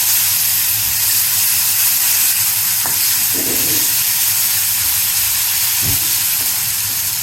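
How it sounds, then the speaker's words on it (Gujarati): Fenugreek seeds sizzling in hot oil, a loud, steady frying hiss close by with a couple of soft knocks from a spoon. "મેથી એકદમ તેલમાં સરસ ક્રન્ચી થઈ જાય"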